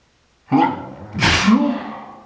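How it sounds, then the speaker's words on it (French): A single sneeze, close and loud: a sharp intake of breath followed by a forceful burst, with no talking. "Je dois éternuer."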